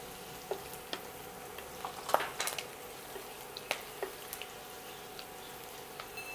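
Sesame seeds and curry leaves fry in hot oil in a pan, giving a faint, steady sizzle broken by scattered small pops and crackles.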